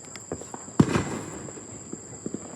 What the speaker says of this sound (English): Everybody's still shooting fireworks everywhere.